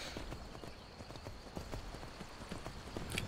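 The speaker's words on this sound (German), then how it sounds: "das Pferd scheint auch eine gewisse Ausdauer zu haben." A horse's hooves clip-clop steadily in the video game Skyrim, rhythmic mid-close hoofbeats over a soft ambient bed with no talking.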